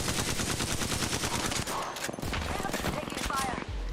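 Dense, rapid automatic gunfire in the Apex Legends battle royale game, a fast rattling stream of shots over continuous noise, with a voice speaking underneath.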